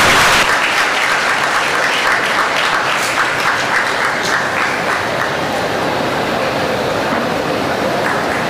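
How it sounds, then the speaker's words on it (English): Audience at a national symposium on artificial intelligence and machine learning claps steadily, a dense even wash of applause filling the hall throughout and easing slightly toward the end, with no talk on top. "Let's give a round of applause for the event"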